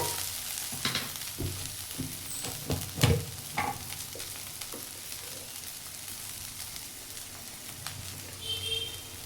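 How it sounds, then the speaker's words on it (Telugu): Okra (bendakaya) frying in oil over a medium flame, a steady sizzle with repeated scraping and tapping as a spoon stirs it in the pan. "మళ్ళీ ఒకసారి కలపాలి ఫ్రెండ్స్. ఆయిల్ కొంచెం ఎక్కువే పడుతుంది."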